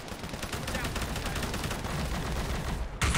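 Rapid bursts of automatic gunfire in a video game, dense and continuous for about three seconds with one sharp closer shot at the end.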